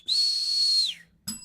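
A single sustained, clear human whistle at one steady pitch, held for nearly a second before sliding downward and fading, followed by a brief burst of other noise.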